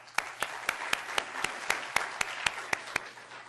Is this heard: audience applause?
yes